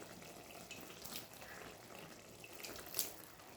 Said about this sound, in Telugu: ఇంకొంచెం వాటర్ చల్లుకుందాం పైనుంచి